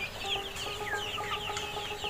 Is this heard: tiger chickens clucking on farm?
yes